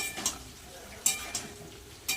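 Potatoes frying in a pan for aloo dum, a steady close sizzle broken by a few sharp spatula scrapes and clinks against the pan.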